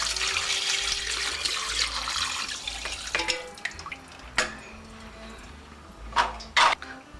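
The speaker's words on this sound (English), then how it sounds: "pour it over the whole chicken." Boiling hot water poured over a whole chicken, a continuous splashing pour that tapers off, followed by a few sharp drips and clatters near the end.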